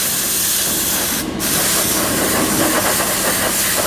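Pressurized coolant bursting from a diesel engine's cooling system, a loud continuous hissing spray with a brief dip partway through and a faint engine rumble underneath.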